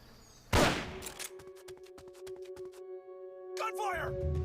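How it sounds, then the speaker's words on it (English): A burst of rapid gunfire crackles in a dense run of sharp shots in the video game Metal Gear Solid: Peace Walker, followed by tonal game sounds and a voice speaking over them. "Someone's firing at us!"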